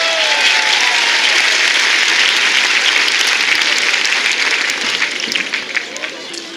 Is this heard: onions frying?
no